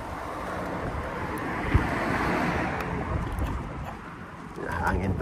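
Steady wind buffeting the microphone while cycling, a broad rushing roar that stays fairly constant, with a brief bump partway through.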